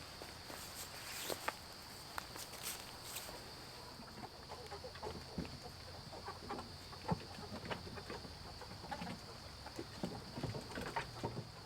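Chickens in a backyard coop on an urban homestead cluck softly and intermittently. Crunching footsteps and a steady chirp of crickets sit underneath, all fairly faint and distant.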